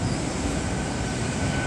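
Class 800 train pulling into Swindon station in Wiltshire, a steady broadband rumble of wheels and carriages close by, filling the short moment with continuous rail noise and no talk.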